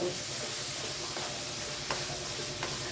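Two large chopped tomatoes frying in hot oil give a steady, close sizzling hiss with a few faint stirring clicks, no voices.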